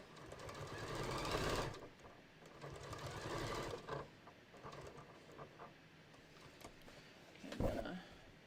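A sewing machine stitches a strap for a beach tote, a steady rapid mechanical patter that runs continuously at a fairly low level, swelling and easing with the sewing speed.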